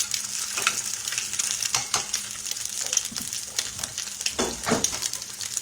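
Eggs frying in an iron skillet, crackling and sizzling steadily up close while a utensil scrapes and stirs in a few sharp strokes, with no talking.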